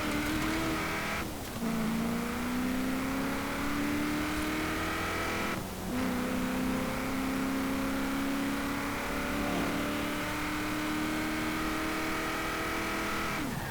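A 1974 Hoonigan Ford Bronco engine in Forza Horizon 4 revs steadily and loudly for the whole stretch, pitch climbing and dropping with two brief breaks as gears shift; no talking.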